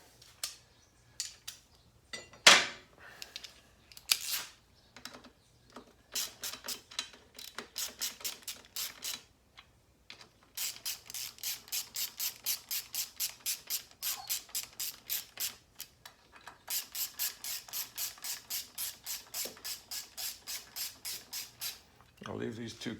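A ratchet on a long extension tightens the sprocket nuts on a 1983 Yamaha XJ900 engine, with scattered clicks at first, then long runs of rapid, evenly spaced ratcheting strokes, close and crisp in a quiet workshop.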